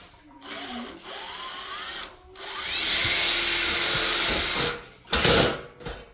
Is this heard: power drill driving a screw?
yes